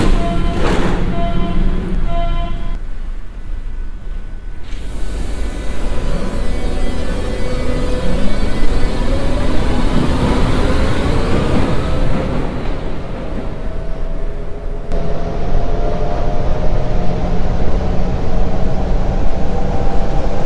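A Berlin U-Bahn line U7 train pulls away underground, its broad rumble and rising motor whine building steadily and holding loud and near to the end, with a brief early chime-like tone.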